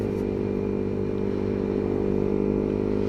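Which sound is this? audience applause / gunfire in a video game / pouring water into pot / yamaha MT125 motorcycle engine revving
yamaha MT125 motorcycle engine revving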